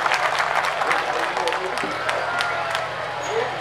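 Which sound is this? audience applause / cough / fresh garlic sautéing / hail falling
audience applause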